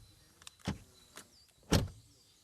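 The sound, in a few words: car door closing on a VW ID.7 sedan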